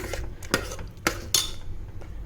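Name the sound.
stirring sarkarai pongal mixture with a spoon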